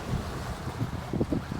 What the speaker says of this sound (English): I'm walking into the wind.